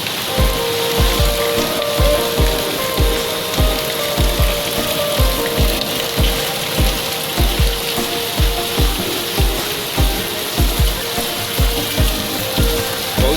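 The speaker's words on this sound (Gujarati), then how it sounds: "ખતરનાક વરસાદ પડી રહ્યો છે સવારમાં." Heavy rain pours in a dense, continuous hiss over Surat in the morning, with a regular series of low thumps, likely water dripping or pounding steadily on a surface.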